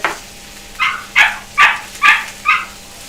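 Small puppies barking indoors, five sharp yips and barks spaced about half a second apart, fairly close and loud against a quiet room.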